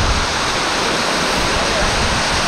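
A classic waterfall pours over rocky ledges near Sonwade in the Konkan countryside, a dense, steady rush of falling water filling the clip from start to finish at a constant close, loud level, with no pauses or voices.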